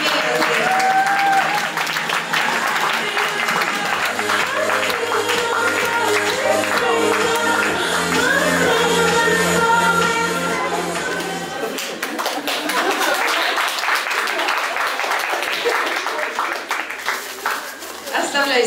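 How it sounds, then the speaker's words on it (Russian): Applause from a stage show audience rolls on steadily under music and an emcee's talk, loud and close, thinning out in the final seconds. "аплодисменты!"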